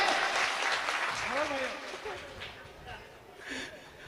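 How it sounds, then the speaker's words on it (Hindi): Audience applause at a Hindi comic poetry recitation, a broad steady wash of clapping with a singing or speaking voice woven faintly through it, gradually thinning toward the end. "ताली बजाओ।"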